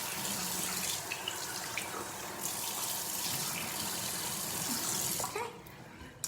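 Tap water runs steadily into a sink as a face is rinsed, a continuous close splashing wash that carries on for about five seconds before easing off, with no talking.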